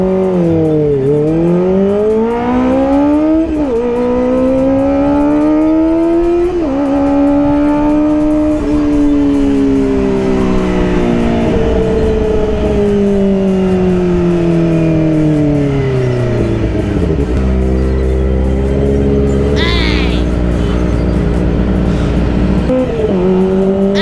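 A Kawasaki ZX25R motorcycle, freshly detailed and long unstarted, revs hard and loud, its engine pitch climbing and dropping in repeated sweeps, then settling before another sharp blip.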